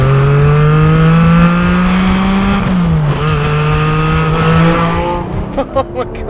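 A 2020 Porsche 718 Cayman GT4 racing engine revs hard toward the red line, a loud sustained howl that climbs steadily, dips briefly, holds high, then breaks into a few sharp blips as it winds down.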